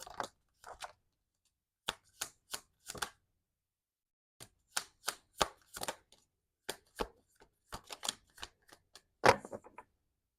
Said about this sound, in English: I just let my cards fly out, and then we'll pick them up as we go along.